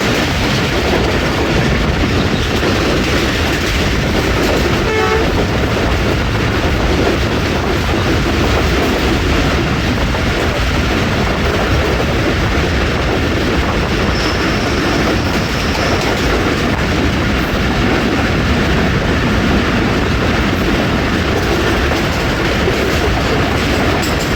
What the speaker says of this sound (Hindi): बकड़ाला से पास थ्रू हो रही है 40 टाउन जाफर एक्सप्रेस।